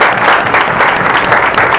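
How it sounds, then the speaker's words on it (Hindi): Loud, close, vigorous applause from an audience at a wellness plan seminar, dense rhythmic clapping throughout a short burst. "जोरदार तालियां, जोरदार दोस्तों"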